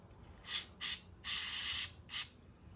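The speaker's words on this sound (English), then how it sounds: "All that material is out of there now, so I'll spray some more in top." Aerosol spray is blasted into the top of a Stihl 041 chainsaw in four close hissing bursts, the third held longest, with no talking.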